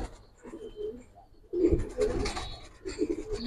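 Pigeons at a pigeon farm give low, throaty coos in short bursts, near and fairly clear, with a pause before a louder, busier run of cooing and faint chirps.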